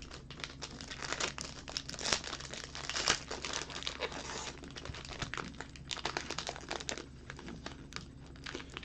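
A foil pack of 2015 Panini Black Gold football trading cards is torn open, giving a steady close crinkling and crackling with sharper tearing snaps, faint against a low background hum.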